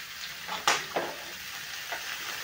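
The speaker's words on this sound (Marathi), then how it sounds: "कांदा मसाले छान असे परतून घ्यायचे आहे। मिरची सुद्धा आपल्याला कांद्यातच तळून घ्यायचंय" Onion, masala and green chilies fry in oil in a pan, a soft steady sizzle broken by a few stirring scrapes.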